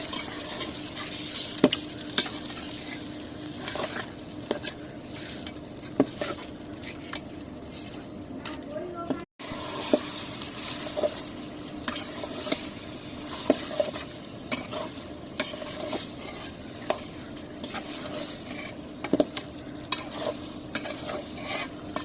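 Beef coated in ginger, cumin, garlic, chili and turmeric sizzles steadily in a pan while a utensil stirs and scrapes in irregular strokes, with occasional clinks of metal.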